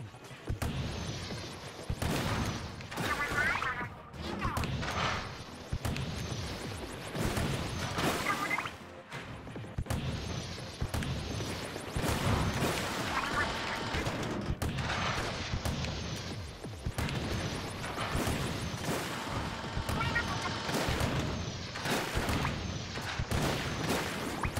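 Cannon fire in the Splatoon 2 Octo Expansion video game, a dense run of loud repeated blasts and crashing impacts with whooshes, continuing steadily throughout amid busy game sounds.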